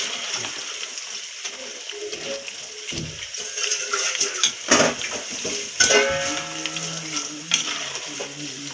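Curry leaves sizzle in hot oil for Gobi 65 while a utensil stirs and scrapes the pan, with loud crackling bursts and metallic clinks over a steady frying hiss.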